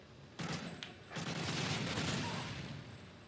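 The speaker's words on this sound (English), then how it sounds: "Can't even see, there's just so much explosion." Dense rumbling blasts and crackling bursts pile up one after another, loud and continuous: heavy explosions in a Call of Duty wave mode game.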